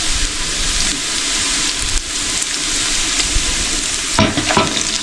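Mustard seeds frying in a pan for a village-style Sri Lankan dum biryani, a dense, steady crackling sizzle that stays loud throughout, with a burst of sharper popping and stirring scrapes near the end.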